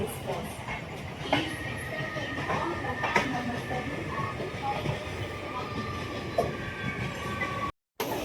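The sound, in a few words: suburban local train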